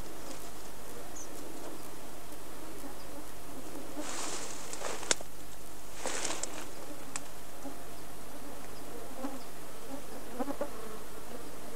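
Bees at an apiary buzzing steadily close by, a busy insect drone that swells into louder bursts partway through, with no voices.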